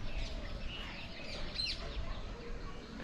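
Birds gathering on a rooftop around trees and wires in late afternoon, with faint, scattered clucking calls over low background noise, distant and quiet.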